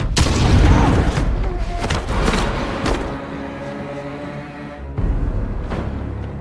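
Gunfire booms out in an action scene from the film Wrath of Man, with a heavy blast up front followed by rumbling reverberation and another sharp hit near the end, loud and close.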